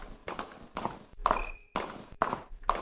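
Horse hooves clip-clop in the video game Stars End, a quiet rhythmic series of hollow steps in uneven bursts with small tonal chimes between them.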